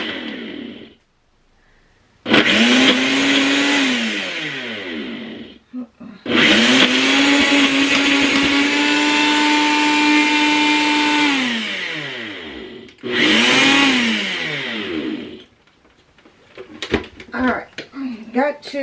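A blender whirs loudly as it purees a pineapple Dole Whip smoothie, three long bursts of motor whine that rise and fall in pitch, separated by brief pauses, with a voice speaking nearby.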